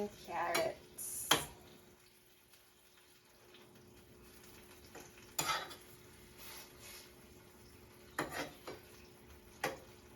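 Onion and carrots cooking in a pot for Jamaican rice and peas, mostly a quiet low sizzle broken by a few sharp clinks and scrapes of a utensil against the pot.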